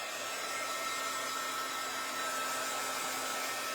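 A hair dryer blows at a constant level, giving a steady, even whoosh and motor whir that runs the whole time with no talking.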